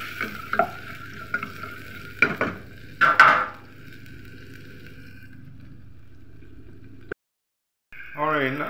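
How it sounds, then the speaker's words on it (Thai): Onion sautés for Sicilian pizza sauce in a pan, a soft steady sizzle under several sharp scrapes and knocks of a utensil stirring, with a brief gap of silence near the end. "yes onion sauté onion"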